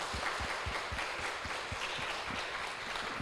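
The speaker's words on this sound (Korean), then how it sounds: "사모님, 우리 훌륭한 사모님 박수 한번 쳐줍시다." Congregation applauding during a pastor ordination thanksgiving service in a church, a steady, dense wash of clapping that stays even throughout with no voices on top.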